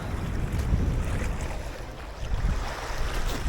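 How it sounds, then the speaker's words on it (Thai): Wind gusting at sea aboard a squid fishing boat, a steady broadband roar of air and water with swelling and easing gusts, no talk. "นี่ลมมาแล้วครับ ลมกวนละ"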